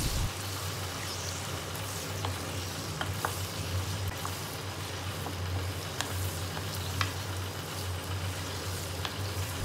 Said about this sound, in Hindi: अब हम इसमें डालेंगे 1 किलो मटन। अब इसको खूब भूनना है कि जब तक इसका कलर चेंज हो जाए।